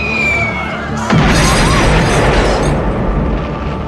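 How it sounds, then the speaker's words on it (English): A loud film-style explosion erupts outside, a sudden heavy boom that swells into a long roaring rumble and debris-like wash that slowly fades. "Outside, a tremendous explosion is heard."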